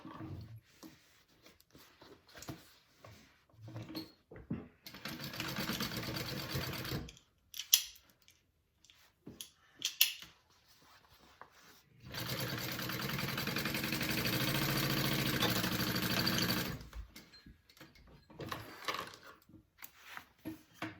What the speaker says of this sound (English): I'm going to sew up these sides